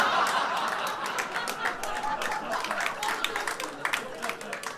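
Audience clapping in a comedy venue green room setting, a thin patter of several claps mixed with chuckles and scattered laughter, fairly distant and modest rather than a full ovation.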